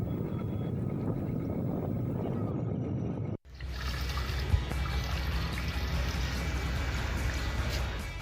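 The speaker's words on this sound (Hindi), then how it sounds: "बाइक की आवाज आप सुनिए कि किस तरह से इन कतारों को नापने की कोशिश की जा रही है।" A motorbike rides along beside long queues of people, its engine droning as a steady low rumble that runs continuously from the midpoint after a brief cut.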